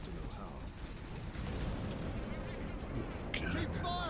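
Gunfire and booming artillery-like blasts from the video game Warhammer 40,000: Space Marine, a dense, continuous barrage of heavy rumbling shots with crackling bursts, loud and close throughout.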